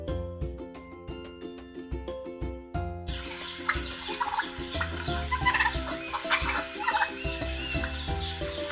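A farmyard fowl, presented as a turkey, calls in a rapid rising-and-falling gobble, loud and close, repeated in quick bursts with a second bird joining partway through.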